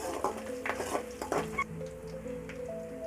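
Sliced onions and curry leaves frying in hot oil in a pan for Tamil fish kulambu made with seela fish, a close, steady sizzle with the scrape and clink of a spoon stirring.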